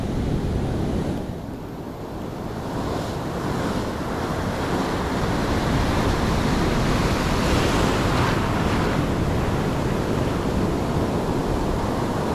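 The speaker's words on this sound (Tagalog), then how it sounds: "Mamaw yung alon." Big ocean waves crash on the shore at Sta. Ana, Cagayan, a loud, continuous roar of surf mixed with strong wind buffeting the microphone, swelling and easing slightly without pause.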